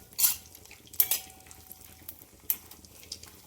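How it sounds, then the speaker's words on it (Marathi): Cashews, almonds and raisins frying in a pan for rice kheer, giving a faint sizzle with a few sharp metallic stirring clinks of a spoon against the pan, quiet and close, with no voices. "ड्रायफ्रुट्स आता हे छान परतून घेऊया."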